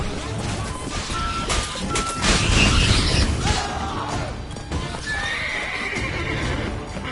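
Geralt's horse Roach in The Witcher 3, with steady clip-clopping hooves and loud whinnying and neighing close by, over busy game background sound and a few clattering thuds.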